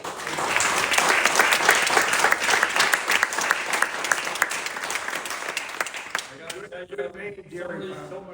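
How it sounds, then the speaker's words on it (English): Banquet audience gives a long, warm round of applause in honor of a University of Maine 1964 College World Series baseball team member, dense clapping that tapers off as a voice returns. "So I'd appreciate it if you just give him a good round of applause."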